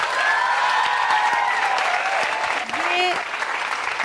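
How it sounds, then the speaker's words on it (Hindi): Loud, dense applause from a crowd fills the clip, with a voice briefly speaking over the clapping. "इनके लिए जोरदार तालियां बजाओ"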